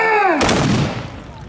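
A matchlock gun squad fires a volley at the Sekigahara battle festival: after a brief shouted command, one loud, sharp blast booms out and rolls away in a long reverberating tail.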